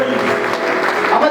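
Congregation at a church gathering applauding, a dense, loud, continuous clapping that rises slightly toward the end, with voices mixed in.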